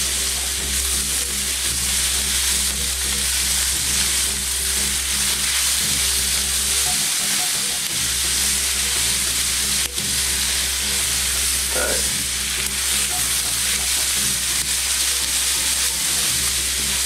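Kielbasa, peppers and onions fry in a pan with a loud, steady sizzle and hiss that carries on throughout, with occasional faint knocks of stirring.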